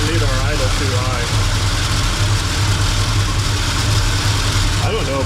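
The engine of a 1960 Chevy K10 four-by-four pickup idles loud and close in a steady low rumble, with a person talking over it.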